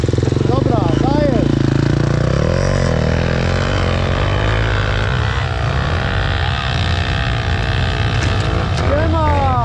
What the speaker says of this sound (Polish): Patrz jak enduro opa będzie podjeżdżał.